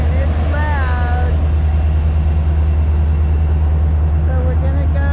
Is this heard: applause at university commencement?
no